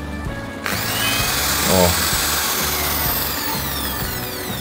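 A power drill runs steadily off a homemade 2000-watt pure sine wave inverter fed by a lithium battery, a loud continuous motor whine starting abruptly and holding for several seconds, with a brief voice exclamation.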